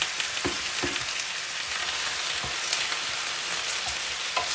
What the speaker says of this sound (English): we're going to give our recipe a quick stir